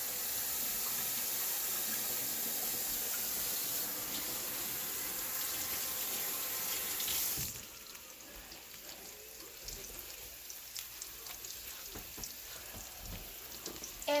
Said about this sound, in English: Just gonna wash my hands again.